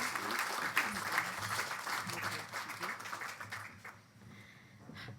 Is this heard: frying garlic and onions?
no